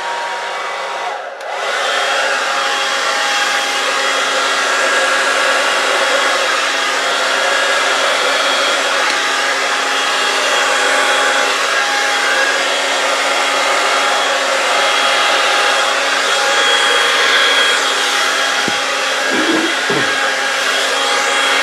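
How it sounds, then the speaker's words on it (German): An ordinary household hair dryer, not a heat gun, blows across poured resin to push it into effects: a loud, steady, close-up rushing whoosh running uninterrupted for about twenty seconds after a brief dip at the start. "ihr könnt einen normalen Föhn nehmen, ihr braucht ja keinen Heißluftföhn."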